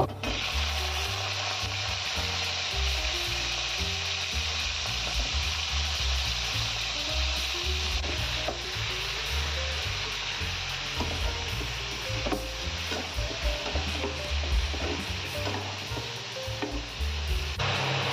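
Beans, eggplant, broccoli stems, pumpkin, peas and potatoes fry in a pan for spinach chorchori, a continuous close sizzle with repeated stirring scrapes and faint clinks throughout.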